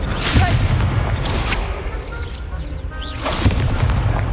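A Confringo fire spell goes off in the Hogwarts Legacy video game as a loud booming burst with whooshing, crackling bursts over a dense, busy backdrop of combat noise.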